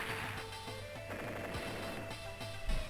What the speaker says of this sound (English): I guess we can have that artillery take down his recon